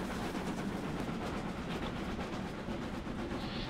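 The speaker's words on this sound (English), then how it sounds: "Passing another train going the other way." A steam train passing another train heading the opposite way in Train Simulator 2016, a Castle class locomotive on the Torbay Express: a steady, dense rumbling roar that holds loud and close throughout with no talk.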